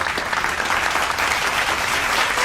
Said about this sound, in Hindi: Big round of applause to make this moment even more memorable.